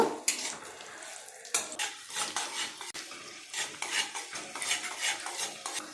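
Onions frying in ghee to make crispy berista for fried rice made from leftover rice, heard as steady close stirring with a spoon scraping against the pan, with sharp metallic clinks and a soft sizzle underneath.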